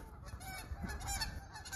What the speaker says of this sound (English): them chickens are annoying.